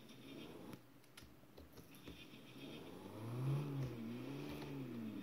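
Toyota Camry engine in City Car Driving, a quiet, low motor hum that rises into a wavering rev partway through, with faint clicks in the background.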